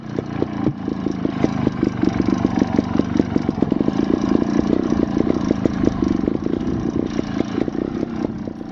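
A Scorpa 250 trials motorcycle engine runs steadily during trials riding practice, with a rapid, even pulsing beat and mild clattery revs that hold close and fairly loud for the whole stretch, no voices.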